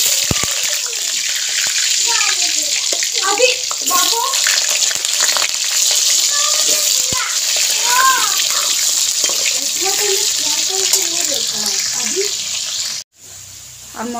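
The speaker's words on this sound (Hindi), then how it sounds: "आलू के हल्का फ्राई करबो।" Potatoes fry in hot oil in a kadhai, a steady broadband sizzle running close and loud for most of the stretch, with a voice talking over it and a brief drop near the end.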